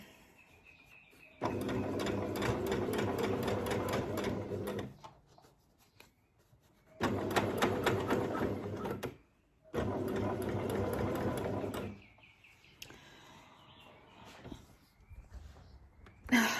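A home sewing machine stitching a dog bandana runs in three close, loud bursts of rapid mechanical whirring and needle clatter, separated by quiet pauses, with light handling noises between them.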